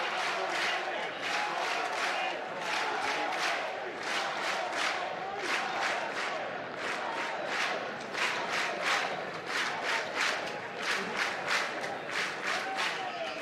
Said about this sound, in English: A little Tyler Fay chant.